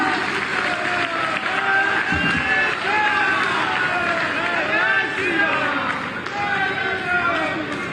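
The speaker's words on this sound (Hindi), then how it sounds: "आपकी जोरदार तालियां" Loud, sustained applause from a crowd at a public development project inauguration event in Azamgarh, with cheering and chanting voices woven through the clapping.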